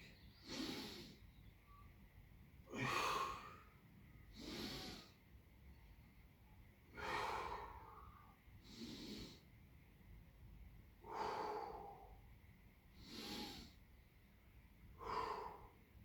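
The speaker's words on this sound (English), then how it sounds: "Big full breaths into the stomach" Slow, deep breaths taken into the stomach during a hamstring and upper-back stretch in a home workout, about eight rhythmic inhale-exhale cycles, close and airy with a soft snorting edge, no talking.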